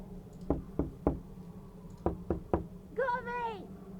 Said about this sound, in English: I'm just gonna knock on all the doors again.